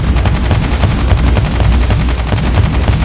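Sustained rapid gunfire in the Call of Duty zombies mode, dense continuous automatic shots filling the whole stretch, loud and close with no pause.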